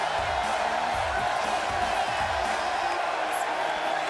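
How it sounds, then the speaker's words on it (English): A packed wrestling arena crowd at a Survivor Series women's elimination match roars in a steady, dense wash of cheering and noise that holds at an even level throughout, with no distinct voices standing out. "it sounds to me like the crowd is more than ready for this one"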